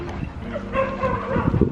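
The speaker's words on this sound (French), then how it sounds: "Il y a des chiens qui aboient" Several dogs bark and yip in a rough, overlapping burst at a campsite in Portugal, with one closer bark near the end over a low background hum.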